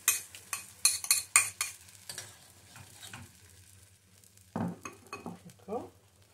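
Choron sauce heats in a small frying pan with a soft sizzle, broken by sharp scraping clinks of a utensil stirring against the pan in bursts, then a quieter pause before more stirring.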